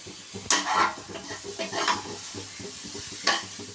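Dry moong dal rattles and scrapes in a pan as a spoon stirs it during dry roasting, with a few louder scraping strokes over a soft crackle.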